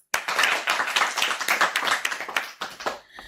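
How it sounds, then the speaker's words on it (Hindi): A small group of children clap for a classmate on a radio children's program, close and fairly loud, with a quick uneven patter of individual claps that stops abruptly near the end. "तो बच्चों बजा देते हैं भूवी के लिए तालियां"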